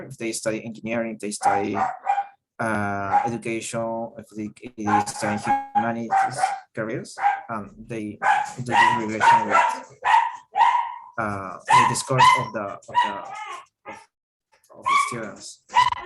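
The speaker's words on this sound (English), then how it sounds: "sorry for my dog." A dog barks in the background of a video call, its barks mixed under a person's steady, continuous talking.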